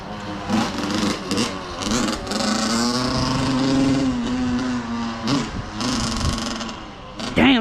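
A two-stroke pit bike engine, loose and with good compression, runs steadily with revving swells and a buzzy drone, while someone talks over it close by.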